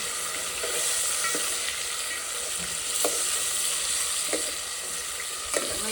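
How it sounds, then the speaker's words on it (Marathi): Village mutton coated with turmeric and salt frying in oil, a continuous close sizzle with a few sharp scraping stirs of a utensil against the pan at intervals. "मम्मीनं हळद मीठ लावलेलं आहे ना, तेलात पण टाकले आता हे मस्त."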